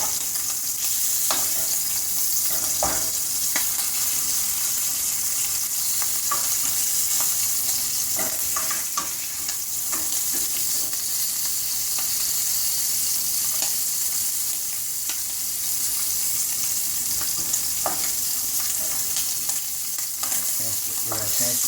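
Red wine braised short ribs sear in a hot pan with a steady, loud sizzle and crackle, punctuated by occasional pops and spatters as the meat sits and is turned.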